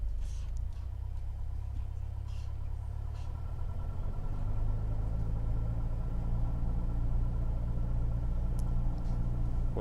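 In MSFS2020, a simulated Cessna 172 engine is run up to 1800 RPM, a steady droning propeller-engine hum that rises slightly in pitch partway through and then holds, with a few faint clicks early on.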